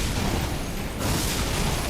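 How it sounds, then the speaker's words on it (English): A blood explosion effect in Elden Ring Shadow of the Erdtree erupts as a dense, sustained burst of rumbling, crackling noise, with a brief dip midway before it swells again. "Blood explosion."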